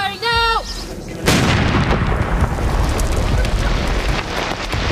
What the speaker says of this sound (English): Stand by, firing! Firing now! Firing now!